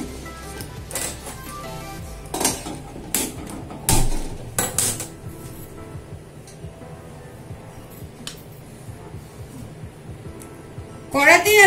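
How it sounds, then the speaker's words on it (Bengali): A metal kadai being set down on a stove while cooking Gujarati-style arhar daal, with sharp clanks and knocks of metal on metal, followed by quieter handling noise and a sizzle near the end; a person talks throughout. "ততক্ষণে কড়াটা বসাচ্ছি।"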